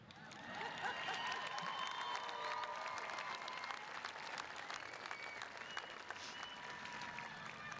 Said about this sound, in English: I've never got such great applause here, so thank you for that.